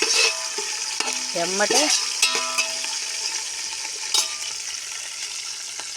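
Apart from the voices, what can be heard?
curry leaves and onions frying in tempering for sambar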